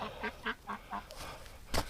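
A pet duck gives a run of about five short, nasal honking calls at an even pace, close by, followed by a louder, rougher burst at the end, with no talk over it.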